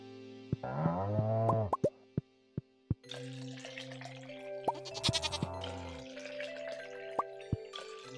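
A goat bleats in Stardew Valley during milking, with two wavering bleats near the start followed by several plopping, dripping sounds. Busier layered game audio with chimes and bleeps comes in after.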